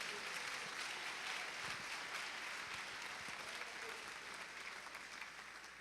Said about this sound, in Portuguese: Vamos dar um aplauso, é muito bom isso.